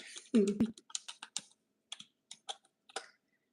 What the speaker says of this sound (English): this keyboard is a little bit different, but I think it might be a little bit quieter than my other one